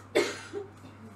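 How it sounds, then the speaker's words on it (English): A single cough sounds in the background near an art supply case, a short burst followed by faint trailing noise. "sorry about the coughing in the background"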